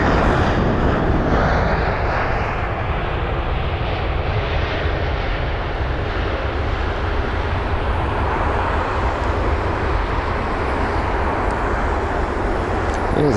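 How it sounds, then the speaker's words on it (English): A Scandinavian jet airliner lands at Heathrow, a steady loud broadband roar of engines and rushing air through the whole stretch, without talk. "And so the Scandinavian jet here is. Floating. There it is, with a nice touchdown."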